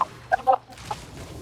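A chicken in the online fantasy game Albion Online gives a few short, sharp clucks close up, quick bursts spaced in the first half second with a softer one after.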